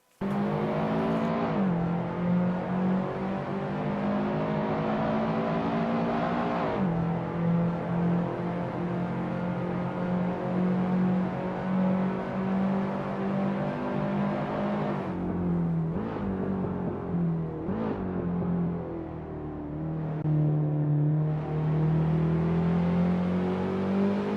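Race cars lapping Laguna Seca in a racing game, a loud sustained engine whine that drops off repeatedly as gears shift and the revs climb again, with no voices.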